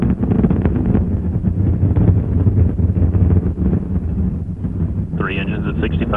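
Space shuttle Discovery's three main engines roaring at launch on the STS-26R Return to Flight mission, a loud continuous rumble with wind buffeting, and a voice joins late over the roar.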